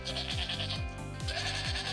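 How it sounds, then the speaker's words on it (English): A domestic goat bleats in a steady wavering call, repeated pulses over a constant background drone, loud and close with no speech. "It is goat. Goats are domestic animals."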